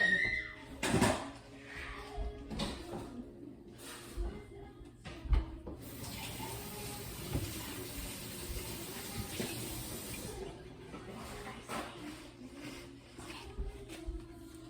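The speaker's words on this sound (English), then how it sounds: "let me wash my hands" A tap runs into a sink while hands are washed in a home kitchen, a faint rushing hiss of water broken by knocks and clatter, with quiet background noise around it.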